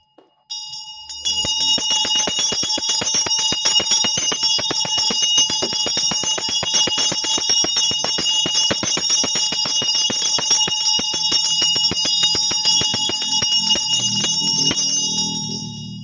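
A small bell rings continuously in rapid rhythmic strikes for many seconds during a tarot reading, bright and sustained, with faint low rumbling near the end.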